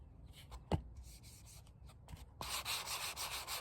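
Close, quiet sanding of a wooden Stratocaster guitar body: abrasive strokes rasp back and forth, a couple of light knocks, then faster, louder scrubbing strokes in a steady rhythm.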